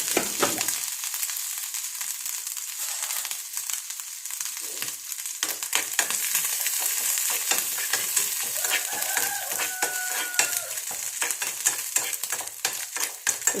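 Coconut pieces fry in a hot pan in a home kitchen, with a continuous crackling sizzle and frequent scraping stirs and clicks close by. A faint rooster-like call is heard in the background.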